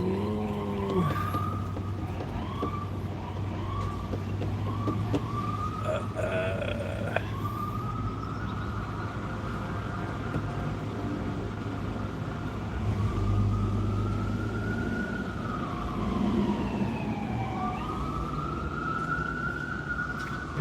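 Emergency vehicle sirens wail along a street in Santa Rosa, California, rising and falling continuously for the whole stretch over steady low traffic rumble, fairly distant and without talk.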